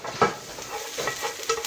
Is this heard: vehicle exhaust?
no